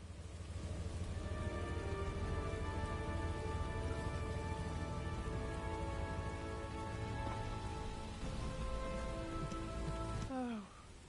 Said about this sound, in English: this rain feels a lot like tears